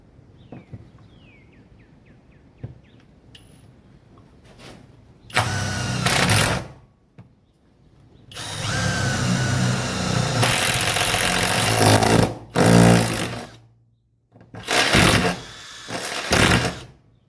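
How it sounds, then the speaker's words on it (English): An electric drill whirs in several bursts of a few seconds each, loud and close, separated by quiet pauses with faint clicks. "Grab the old drill."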